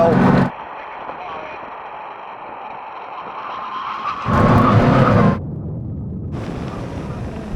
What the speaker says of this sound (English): Now we can have a brake test from 100 miles an hour. When we reach line, full emergency stop.